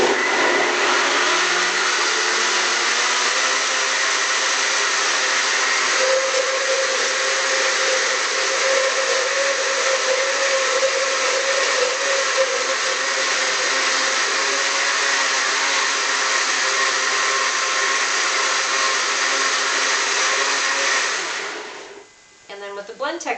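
A Blendtec blender runs at speed 10, whipping baby formula with a loud, steady, high-pitched whir that holds for about twenty seconds before cutting off abruptly, with a few quick clicks at the end.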